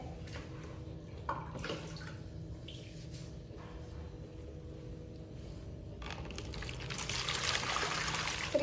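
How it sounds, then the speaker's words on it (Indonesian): Water being poured into a container to measure out 2700 cc for a chlorine solution, a soft steady trickle and splash that grows slightly louder toward the end, quiet and close. "Lalu sekarang kita ambil airnya sebanyak 2700 cc."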